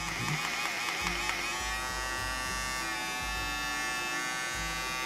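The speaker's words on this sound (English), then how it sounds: "One thing I think is important in any 21st century's man's handbag is a shaver." A compact electric shaver hums with a steady, close, continuous buzz throughout, its pitch holding even with small fluctuations and no voices over it.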